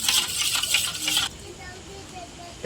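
Yogurt whisked in a bowl for dahi vada makes a burst of rapid, scratchy strokes for about a second, then falls to near quiet.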